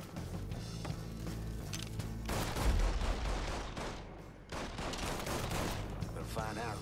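Gunfire in the video game Mafia III crackles in dense, loud bursts over a rumbling game soundtrack, with a voice speaking briefly beneath.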